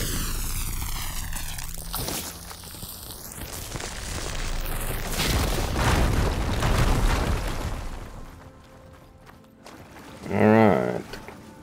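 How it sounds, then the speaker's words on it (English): A fire gleam is blown up in a video game, giving a loud booming blast with a rumbling tail amid layered game sounds and effects. A short sharp burst follows near the end. "Should be able to blow up that fire gleam."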